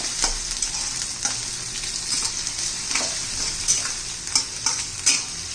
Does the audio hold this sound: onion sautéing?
yes